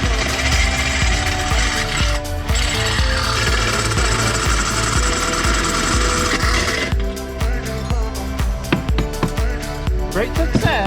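A power drill bores through a fuel pump mount with a fresh bit, the motor running loud and steady close by with rattling, grinding bursts as the bit bites, and a brief voice underneath.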